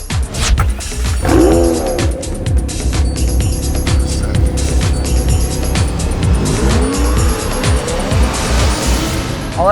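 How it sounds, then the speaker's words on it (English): A 2018 McLaren 720S supercar revs hard and drives throughout, its engine loud and close with rising and falling pitch sweeps and brief tire squeal. "This is the 2018 McLaren 720S"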